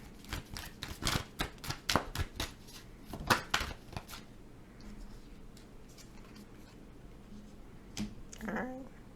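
Tarot cards being shuffled by hand, a burst of crisp riffling clicks and snaps over the first four seconds, then quieter handling with a brief flick near the end.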